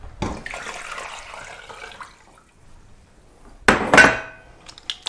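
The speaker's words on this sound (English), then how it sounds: "We're going to add 4 quarts of water, cold water." Cold water runs and splashes into a pot holding chicken thighs for a few seconds, followed by a louder burst of pouring and clattering near the end.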